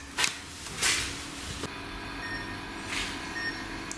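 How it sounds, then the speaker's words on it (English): A few short electronic beeps from a REM pod ghost-hunting sensor sound at irregular intervals in a hotel over a quiet background with a faint hum, with no talking. "The REM's going off."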